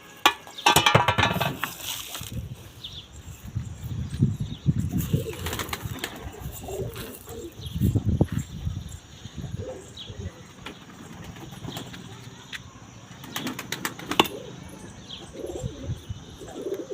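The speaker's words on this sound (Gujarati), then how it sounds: "આવો હોય બધા આવી ગયા, કબૂતર આવી ગયા બધા બારે." Pigeons arriving to feed flap their wings in quick bursts and coo softly and repeatedly nearby, with scattered chirps and low background rustling.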